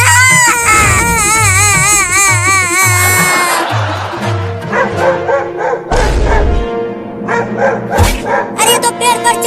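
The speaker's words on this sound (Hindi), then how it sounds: "लगता है कुत्ता चढ़ जाएगा पेड़ पर" A dog barks and yelps repeatedly amid a busy comedy scene with music and crying sounds, loud and close, in bursts throughout.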